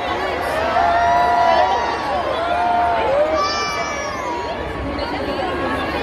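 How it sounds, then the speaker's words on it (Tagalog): Excited cheering and shouting rises from a large outdoor crowd at a Philippine Independence celebration at the Burj Khalifa in Dubai, a dense continuous roar with high voices standing out. "Sigawan na mga tao"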